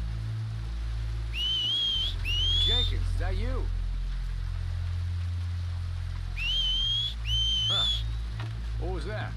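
Whistling in the video game Red Dead Redemption 2: two-tone rising whistles in pairs, repeated after a pause, over a low engine-like drone and quiet background with a voice murmuring.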